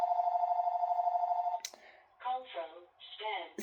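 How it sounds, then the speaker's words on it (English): A steady electronic ringtone hums for about a second and a half, then cuts off as a person starts talking. "my phone is ringing"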